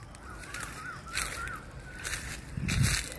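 Crows caw several times around a grain feeding spot set out for sparrows in a Kolkata garden, moderately close calls repeating in short bursts with a faint thump near the end.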